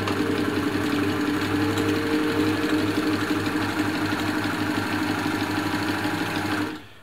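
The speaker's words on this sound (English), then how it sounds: "That's a wide zigzag satin stitch." Compact elna Lotus SP sewing machine running a wide zigzag satin stitch, a steady close mechanical whirr with a fast rhythmic chatter that continues evenly before stopping at the end; no one speaks.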